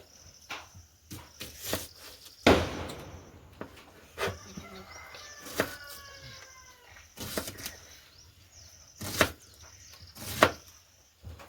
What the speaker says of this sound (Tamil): நாங்கள் எடுத்து வச்சுருக்கிற பெரிய வெங்காயத்தை சின்ன சின்னனாக கட் பண்ண போகிறோம்